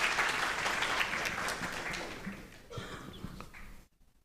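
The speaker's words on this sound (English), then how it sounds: "So a big round of applause for Dr." Audience applause after a talk at a cardiology arrhythmia workshop, a dense round of clapping that stays steady for a few seconds, then thins out and stops abruptly.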